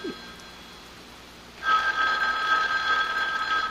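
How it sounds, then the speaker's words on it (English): An old telephone bell starts ringing partway through a quiet scene, a rapid metallic trill that continues steadily and fairly close in a vintage radio drama. "Well, Mrs. Greenway, aren't you going to answer it? Answer? The phone"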